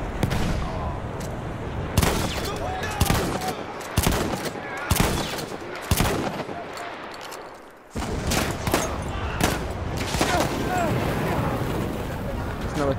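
Shotgun firing in Battlefield 1, a string of loud, sharp blasts at close range spaced roughly a second or two apart, with a short lull partway through and dense game noise and talk underneath.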